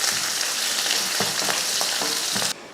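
Onion sizzles steadily in hot oil in a pan, alongside mustard seeds, urad dal, curry leaves and dried red chillies, with a few soft stirring scrapes before the frying cuts off near the end.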